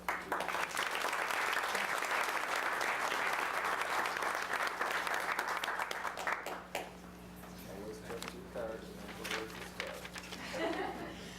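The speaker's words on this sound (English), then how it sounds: "Please patronize them and give them a round of applause" Audience applause at a Salem city council meeting, many hands clapping steadily for about seven seconds before fading, with a low hum underneath and a voice speaking as it dies away.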